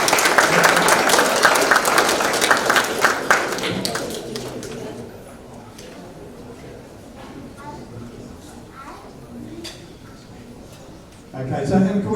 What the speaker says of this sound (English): And round of applause for Murray, the patron.